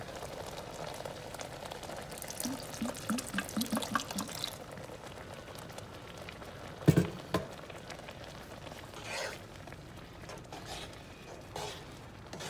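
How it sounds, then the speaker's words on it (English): Water is poured into a simmering chicken tomato sauce on the stove, a soft liquid splash and pour followed by gentle bubbling, quiet and close, with a clink or two of utensils. "I'm gonna add a tad bit of water."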